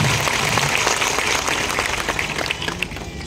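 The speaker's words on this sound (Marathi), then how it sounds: "मुख्यमंत्र्यांच्या, आप्पासाहेबांच्या लाडक्या बहिणी ज्या संख्येने इथे उपस्थित झाले त्यांच्यासाठी जोरदार टाळ्या झाल्या पाहिजे" A crowd at a political rally for an MLA in Pachora applauds loudly, with dense, continuous clapping that thins slightly toward the end, a few sharper individual claps standing out.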